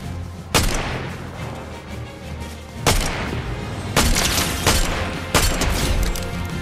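Gunfire in the Fortnite video game: heavy booming shots ring out at irregular intervals, four or five loud blasts with reverberant tails over a continuous noisy game background.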